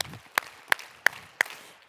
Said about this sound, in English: if you can hear me, clap 5 times.